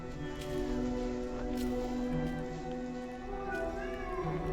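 A cat meows a few times at close range, with soft drawn-out calls over quiet background noise and a faint hum.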